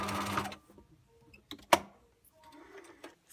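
A sewing machine stitches darts in a short, dense mechanical burst, then falls quiet apart from a few sharp clicks and soft handling noises nearby.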